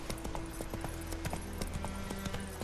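Roach, the horse in The Witcher 3, gallops in a steady rhythm of close, loud hoofbeats, with a low sustained game tone running underneath.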